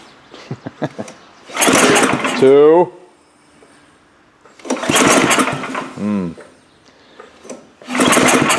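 A Gravely power brush engine, stored ten years in a shed, cranks repeatedly in long whirring bursts with pauses between. Someone speaks briefly between pulls, and the engine sputters without catching.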